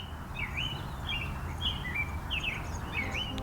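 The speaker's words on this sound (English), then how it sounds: "Now the birds will be a little louder." Several small birds chirp and twitter in short, repeated high calls over a steady low background rumble, the calls evenly spaced and moderately close throughout.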